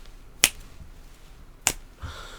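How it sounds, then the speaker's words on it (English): Two sharp finger snaps, about a second apart, crisp and close over a quiet background, followed by a soft low thump near the end. "Sorry, I can't help but snap my fingers to that beat."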